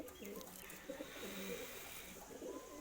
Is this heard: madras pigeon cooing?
yes